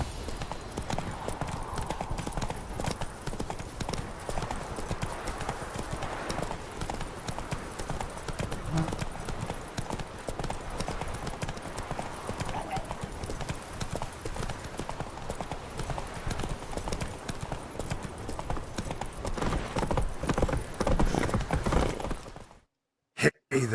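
A horse gallops in The Witcher 3, a rapid, steady clip-clop of hooves that runs for the whole stretch and swells toward the end before cutting off abruptly.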